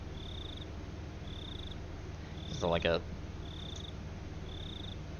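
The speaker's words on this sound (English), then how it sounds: "I could hear the crickets." Video game crickets chirp in a steady rhythm, five evenly spaced trills over a low background hum, with a brief spoken question midway.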